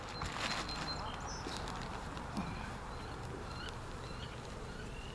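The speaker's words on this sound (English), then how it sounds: "There got to be close to between 5 and 10 pounds of bees in here." A captured bee swarm buzzes steadily nearby, a dense insect hum with faint movement noises and light handling sounds.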